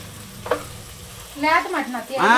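Mutton fries with ginger in a pan, giving a close, loud sizzle broken by a sharp clink near the start; a voice-like sound joins toward the end.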